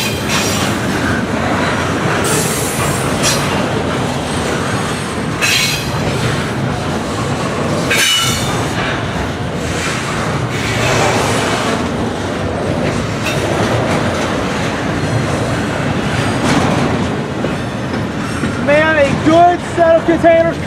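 A freight train rolls along the main line with a steady heavy rumble and clattering wheels that go on throughout, and wheel squeal rises near the end. A voice talks over it at times.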